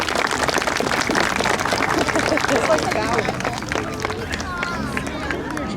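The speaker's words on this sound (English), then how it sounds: "Let's hear a round of applause for Pepper" Sustained applause from an audience at an outdoor falconry show, a dense steady wash of clapping mixed with crowd murmur and a few voices, gradually thinning toward the end.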